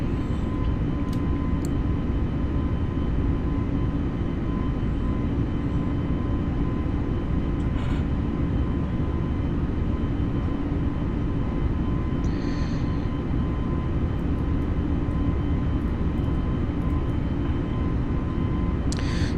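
Airbus A320neo engines at climb thrust in a flight simulator game, a loud steady broadband roar held throughout with a faint tonal whine, with no talking.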